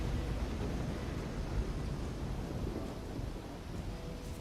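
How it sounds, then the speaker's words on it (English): A thunderstorm in the video game Risen rumbles steadily, with dense rain and low thunder forming a loud, unbroken roar, and no voices. "Yeah, the storm really drowns out everything"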